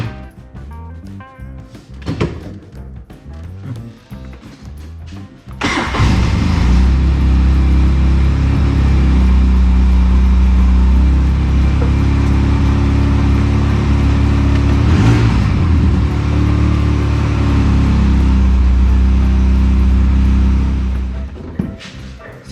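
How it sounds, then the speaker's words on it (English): After a few quieter mechanical knocks, a Polaris RZR 800S side-by-side, its throttle cable adjusted too tight, starts up and idles loudly and close, a deep rumbling engine drone that holds steady for about fifteen seconds, then fades out. "So it's clunking into gear now because the throttle cable's too tight."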